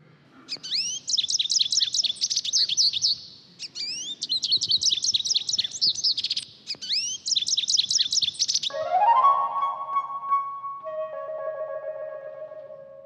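A flute imitates goldfinch song: bright, fluttering bird-like trills repeat in three bursts, then sustained pure flute tones hold, clear and close with no talking.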